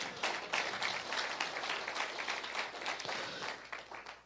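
A church congregation breaks into applause, a fairly quiet but lively patter of many hands clapping in a slightly uneven rhythm that fades a little toward the end.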